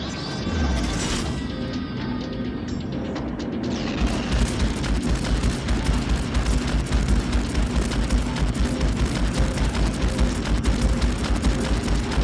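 Spaceship guns fire in Strike Suit Zero as a dense, continuous barrage that swells louder partway through and rattles on steadily without a break.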